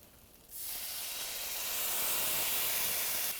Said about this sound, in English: We melted this butter out a little more, and now we got the lemon.